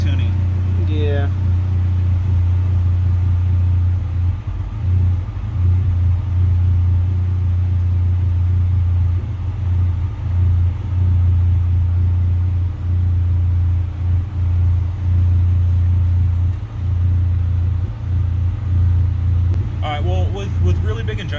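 A Honda EM2 engine in an all-wheel-drive car, fitted with 2000cc injectors and two 400lph fuel pumps, runs with a steady, deep rumbling idle that stays even throughout, while voices talk over it.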